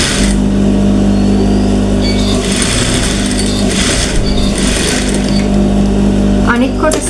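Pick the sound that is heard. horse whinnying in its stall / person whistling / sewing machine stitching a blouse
sewing machine stitching a blouse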